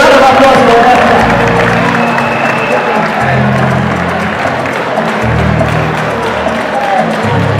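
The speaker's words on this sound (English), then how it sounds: "A round of applause for that." Audience applause and cheering at a conference event, loud steady clapping from a crowd with music or voices mixed in throughout.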